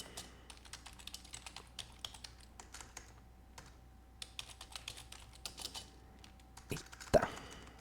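Someone types on a computer keyboard while modelling data in SQL, producing a quick irregular run of close clicky keystrokes in bursts, ending with a sharper louder clack.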